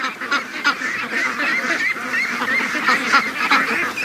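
Ducks call steadily near a lake in misty rain, a dense run of honking, nasal quacks overlapping one another at close range.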